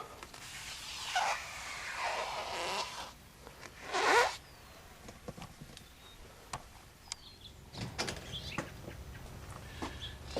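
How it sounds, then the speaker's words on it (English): Paper backing being peeled off adhesive weatherstripping on a security screen door, giving a few soft ripping, crinkly bursts spread through otherwise quiet room sound. "just peel it off like that when you get done"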